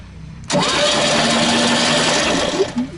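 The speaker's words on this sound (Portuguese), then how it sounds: "Cá, de novo, pode girar a chave." The key is turned on a 1975 Volkswagen Beetle, and after half a second of quiet the air-cooled engine cranks with a loud, close, steady whirring chatter that continues to the end.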